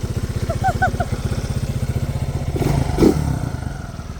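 A 1987 Honda ATC 200X three-wheeler runs with a steady, close, throbbing engine note, its rapid firing pulses continuing throughout with a slight rise in intensity near the end and a few brief clanks over the top.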